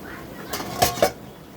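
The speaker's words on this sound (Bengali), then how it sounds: "আমি তরকারিগুলোকে কষাতে দিয়েছি, এবার ঢেকে দিব" A lid set down on a pot of curry gives two short metallic clinks, close and fairly soft, with faint kitchen shuffling before them.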